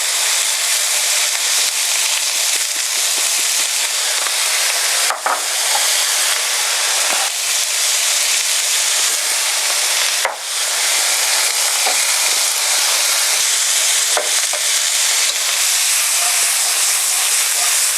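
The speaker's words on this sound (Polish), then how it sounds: "Papryka nam się przesmażyła." Paprika frying in a pan for a Hungarian goulash, a steady loud sizzle and hiss running without pause, broken by a few brief scrapes or stirs, no talking.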